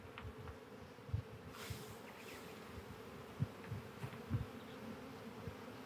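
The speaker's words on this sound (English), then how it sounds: "because the bees I'm shaking are on frames that I've kept outside" Honey bees buzzing as they are shaken off hive frames for a queen-rearing cell builder, a faint steady hum with soft thumps from the shakes and a swarm-like drone throughout.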